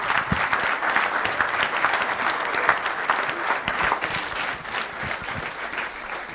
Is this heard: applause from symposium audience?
yes